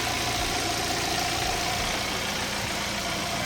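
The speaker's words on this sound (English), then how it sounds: "Engine is running great, there are no leaks" A 2017 Hyundai Sonata engine idles steadily after a valve cover gasket replacement, giving a continuous even hum with a broad hiss and no talk over it.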